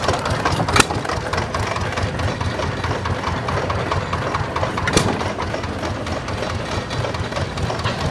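An antique engine-driven saw cutting metal at a vintage engine and tractor show: a steady low engine chug with a continuous grinding rasp, a couple of sharper clanks standing out.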